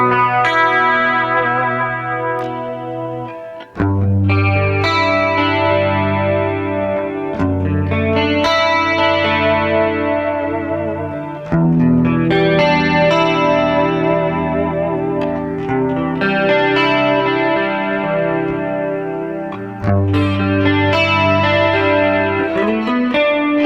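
An electric guitar played through a Rockman X100 headphone amp on its Clean 1 preset rings out in chiming, chorus-and-echo-soaked chords and arpeggios, steady and full for over twenty seconds with no talking.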